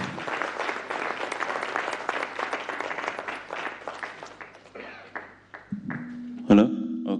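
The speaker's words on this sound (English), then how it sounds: "A big round of applause for the senior minister." An audience at a business breakfast meeting applauds the senior minister with dense, sustained clapping that thins out. A brief ringing tone and a microphone bump follow near the end.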